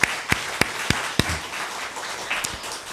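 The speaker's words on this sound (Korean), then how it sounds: "박수로 한번 환영하겠습니다" A handful of sharp, separate claps ring out in a church hall to welcome a newly registered member, spaced unevenly at first, then fading into a light patter before a couple of final claps.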